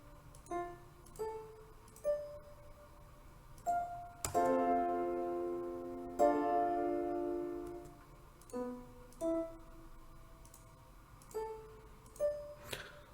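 Chord progression on an Omnisphere synth: short plucked chords alternating with longer sustained swells, quiet, with no talking.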